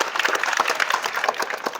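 In a Bihar government school, a small group claps for a child's song, a short, close burst of dense, steady applause.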